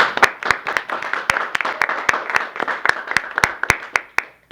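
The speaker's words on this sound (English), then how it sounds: "Let's give them a huge round of applause" Audience applause for a group of students at a school assembly, sharp individual claps ringing out close and loud, irregular but steady for several seconds before tapering off.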